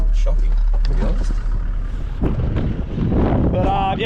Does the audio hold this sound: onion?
no